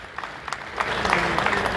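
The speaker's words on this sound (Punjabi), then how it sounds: "ਆਪਣੇ ਆਪ ਲਈ ਤਾੜੀ ਮਾਰੋ" A brief burst of applause from a group of students, scattered claps building into a steady patter over less than two seconds, fairly close and without voices.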